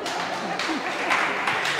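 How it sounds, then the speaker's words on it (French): Audience applause at a school competition awards ceremony: steady, dense clapping from a crowd, moderately loud and continuous for the whole stretch with no voices on top. "On l'applaudit très très fort"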